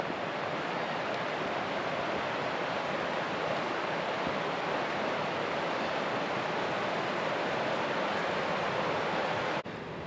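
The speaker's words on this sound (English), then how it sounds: "there's our beautiful river" A river rushing outdoors as a steady, broadband wash of flowing water, loud and unbroken for the full stretch, with no voices over it.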